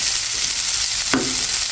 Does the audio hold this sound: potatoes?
yes